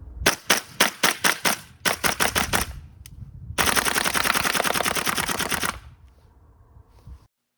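Tokyo Marui M4 gas blowback airsoft rifle firing on green gas, with two short bursts of crisp, evenly spaced shots followed by a long rapid-fire string of about ten shots per second, loud and close, then a fading mechanical tail.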